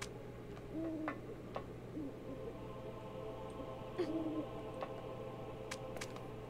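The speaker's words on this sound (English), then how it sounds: "My other bird's right there." A bird in The Church horror game gives soft, low hoots a few times at intervals, faint over a steady background hum with occasional small ticks.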